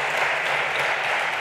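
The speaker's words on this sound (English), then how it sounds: "We can clap some more." Audience applause following an interview with architect Patrik Schumacher, a steady, dense clapping from a crowd filling the whole moment without pause.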